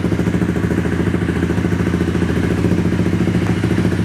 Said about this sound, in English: I really like hearing the motorcycle get an aftermarket exhaust like this